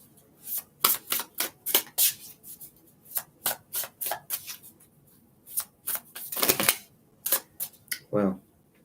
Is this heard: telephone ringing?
no